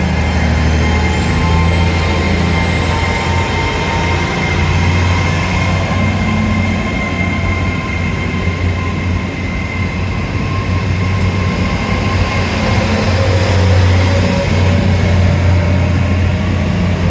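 A train pulls away along Teignmouth seafront on a wet day, a steady close rumble of wheels and engine with a rising high whine, continuous and loud over wind, with no voices.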